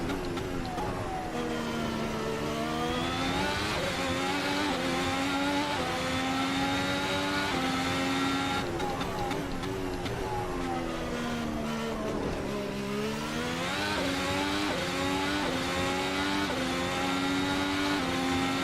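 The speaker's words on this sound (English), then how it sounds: "great sounds on those upshifts. I love the little pops that you get on the upshift" A 2017 works Ferrari race car in the video game Assetto Corsa revs hard through repeated rising sweeps, dropping sharply at each upshift with small pops, loud and continuous with no talking.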